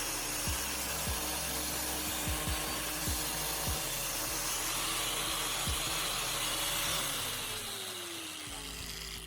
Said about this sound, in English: I'll apply the wire brush to both sides of the axe head, making sure to get into all the nooks and crannies